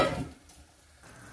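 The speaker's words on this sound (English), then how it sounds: "I'm going to add in, Bismillah ar-Rahman ar-Rahim, tomatoes." Tomatoes hitting hot oil in a chicken karahi pot, a brief burst of sizzling that quickly settles into a faint, low fry.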